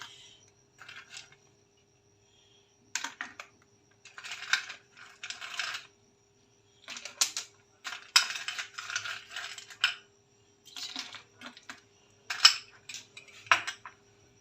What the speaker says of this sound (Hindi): अच्छा, अब हम इसके अंदर डालेंगे बर्फ़।